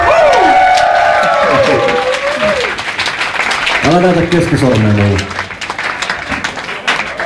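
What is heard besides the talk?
concert audience applauding the sound mixer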